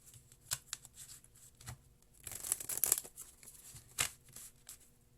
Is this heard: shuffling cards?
yes